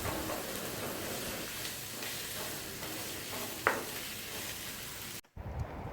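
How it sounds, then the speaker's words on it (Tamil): Onions, green chilies and curry leaves frying in a pan for mutton varuval, a steady close sizzle that runs throughout, with a brief clink near the end and a short silence before it resumes. "வெங்காயம், பச்சை மிளகாய், கருவேப்பிலை இதெல்லாம் போட்டு ஒரு 2 மினிட்ஸ் ஃப்ரை பண்ணலாங்க"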